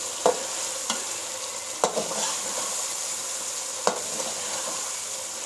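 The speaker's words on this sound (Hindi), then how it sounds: "इसे अच्छे तरीके से मिक्स कर रहे हैं।" Spiced chicken for Peshawari charsi karahi fries in a pan, a constant soft sizzle broken by a few sharp scrapes and knocks of a spoon as the mixture is stirred.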